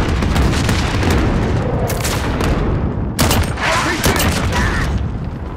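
A VTOL airstrike in a first-person shooter video game pounds the area with continuous loud booming explosions and rattling gunfire, a dense, relentless barrage with faint voices underneath.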